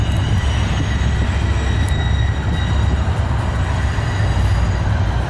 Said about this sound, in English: we see a southbound CSX freight train on the Columbus subdivision